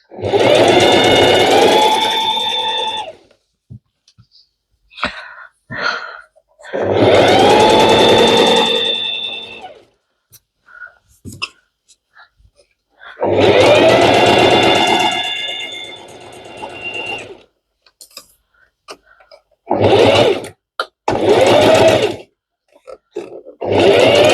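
A sewing machine stitching a baby crib sheet with a half-inch seam runs in loud, steady whirring bursts of a few seconds each, separated by quiet gaps with small clicks and handling noises of fabric.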